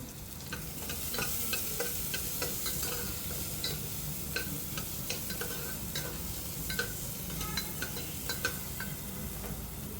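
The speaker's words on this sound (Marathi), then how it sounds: "कांदा सुद्धा आपल्याला टाकून घ्यायचा आहे व्यवस्थित फ्राय करून घ्यायचं आहे" Onion, garlic and ginger fry in a pan for mutton paya soup, giving a steady close sizzle with scattered clicks of stirring throughout.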